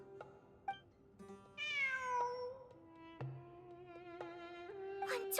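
Several meows from a cat in the game Genshin Impact, a longer rising call early then shorter ones, moderately near over soft tonal background music, no voices.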